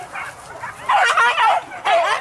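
A dog gives a few yelping, whiny barks close by during a wild boar hunt, in short bursts with brief pauses between them.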